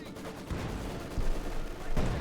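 Maxim machine gun firing in Company of Heroes 2, heard as short loud bursts of gunfire at about half-second, one-and-a-quarter and two seconds over a steady battle din.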